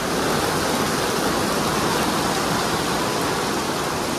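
Dense, steady hiss of a heavy evening downpour, constant and enveloping with no pauses or voices.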